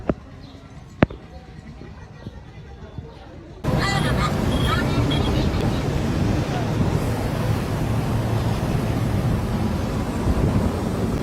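Wind blowing volcanic ash during the La Soufriere eruption: a sudden, loud broadband rush of gusting wind kicks in after a quiet stretch with a couple of sharp knocks, then roars on steadily and close.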